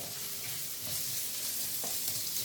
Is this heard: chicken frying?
yes